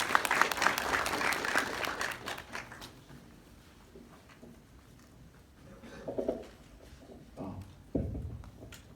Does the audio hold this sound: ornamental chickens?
no